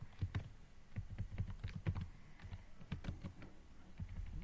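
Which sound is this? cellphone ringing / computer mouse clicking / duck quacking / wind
computer mouse clicking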